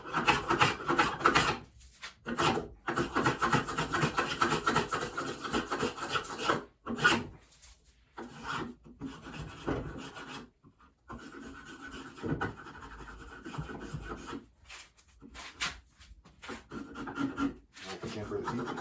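Hand shaping tapers the end of a wooden ladderback chair back leg. Close, rhythmic rasping strokes scrape across the wood in quick runs, separated by brief pauses, with no voices.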